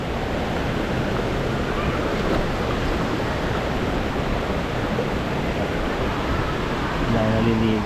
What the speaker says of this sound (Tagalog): Ito po ay Taytay Falls.